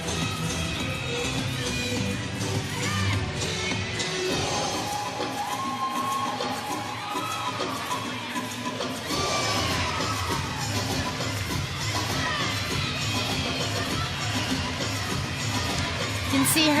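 A college gymnastics crowd with teammates cheering a gymnast at an Auburn vs Kentucky meet, a steady wash of shouts, whoops and applause that rises and falls under a commentator's voice.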